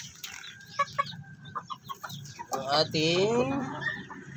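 A Shamo Jutako hen in a small backyard coop clucks in short, soft bursts, then lets out a longer rising, warbling call near the end, fairly close and moderately quiet with faint background noise.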